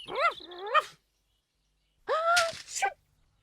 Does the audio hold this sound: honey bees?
no